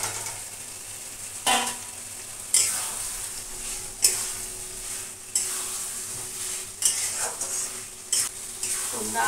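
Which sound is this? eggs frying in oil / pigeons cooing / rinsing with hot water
eggs frying in oil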